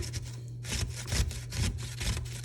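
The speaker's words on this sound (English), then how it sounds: "I just use the big hole of the box grater, and I'm just trying to kind of get all of this grated" Cucumbers rubbed against the large holes of a box grater, giving repeated rhythmic rasping strokes over a steady low hum, close and moderately loud.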